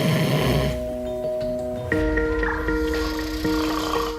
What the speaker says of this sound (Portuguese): 2 horas da manhã e ele ainda não parou de roncar.